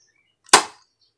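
A single sharp crack of a compact airsoft pistol firing, one short loud pop with a quick decay, otherwise silence.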